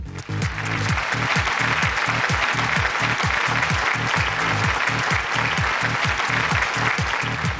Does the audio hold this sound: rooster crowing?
no